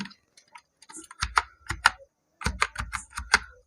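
An Excel formula is typed on a computer keyboard as a quick, uneven run of close, crisp key clacks, some light and some heavier, with a brief pause midway.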